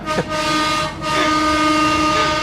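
A train horn on the Minangkabau train in West Sumatra blares in long, sustained tones, briefly dipping before sounding again, loud and close over a rumbling rail background.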